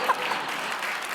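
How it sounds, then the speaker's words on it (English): A talk show studio audience applauds in a brief, steady wash of clapping at moderate volume. "That got applause."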